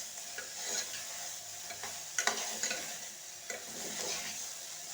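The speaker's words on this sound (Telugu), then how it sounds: "మిల్మేకర్లు అయితే నూనె పోసాను కదా, మంచిగా ఇట్లా గోలించుకోవాలన్నమాట" Soya chunks (meal maker) fry gently in oil in a pan, a soft sizzle with scattered crackles and a few scraping stirs of a spoon, quiet and close with no speech.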